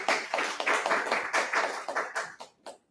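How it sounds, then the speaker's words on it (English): Applause from an audience at a Toastmasters club meeting, a dense patter of hand claps that swells and then tapers off into a few scattered claps. "Huge round of applause for him, ladies and gentlemen."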